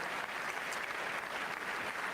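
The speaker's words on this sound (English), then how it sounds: "I better clap for that." Audience applause at a State of the Union gathering, a steady dense wash of many hands clapping at even loudness throughout, with no talk over it.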